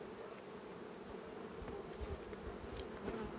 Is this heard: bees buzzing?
yes